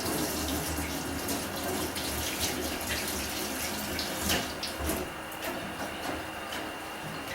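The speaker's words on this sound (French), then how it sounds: "Je vais le laver soigneusement à l'eau froide." A leek is washed under cold running tap water at a kitchen sink, a steady loud stream splashing continuously throughout with small shifts as the vegetable moves under the flow, and no talk.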